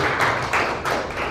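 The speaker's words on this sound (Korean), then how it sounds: "박수 한번 부탁드리겠습니다" An audience at a Korean unification advisory council meeting applauds in a dense, continuous wash of clapping, with a few louder swells, and no voices on top.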